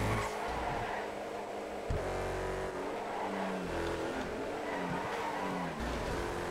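Regina Supersport LMP1 sedan in the GTA FiveM video game, its engine droning and revving loudly and continuously as it accelerates at high speed, with pitch rising and dipping through gear changes and no talking.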